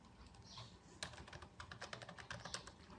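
Typing on a computer keyboard while entering SQL table code, a quiet close patter of uneven key clicks.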